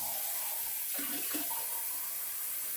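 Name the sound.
water running from a tap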